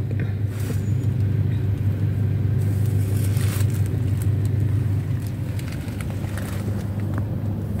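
Road traffic along the Red Sea Corniche, with a steady rumble of cars driving by, engines droning continuously nearby and a few louder passing swells, no talking.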